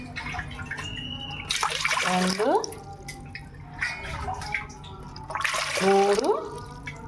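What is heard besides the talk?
pouring cups of water onto soaked sago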